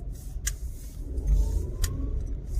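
A car in slow-moving traffic, a steady low engine rumble close by with a couple of brief higher whooshes as other vehicles pass, no talking.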